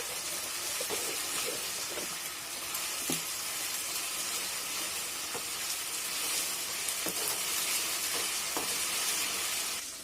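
Ginger garlic paste fries in a pan for a boiled chicken fry, a soft, even sizzle with occasional light clicks of stirring, heard faintly and without speech.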